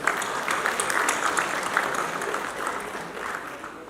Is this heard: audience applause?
yes